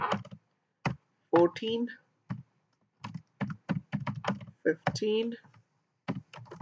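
Rapid clicking keystrokes from someone typing Python code on a computer keyboard come in short bursts, interleaved with a person talking close by.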